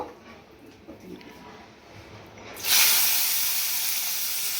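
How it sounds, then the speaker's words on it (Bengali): Prawns hitting hot oil in a pan for a light fry during a mixed vegetable and prawn curry: after a couple of quiet seconds a loud, bright hiss bursts in and keeps sizzling steadily to the end. "এখন এখানে প্রথমে আমি চিংড়ি মাছটা একটু ভেজে নেব।"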